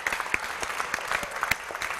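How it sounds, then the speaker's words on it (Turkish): A studio audience on a Turkish television talk show breaks into brief, dense applause, a close, continuous patter of many clapping hands with no voices over it. "Bir alkış buraya"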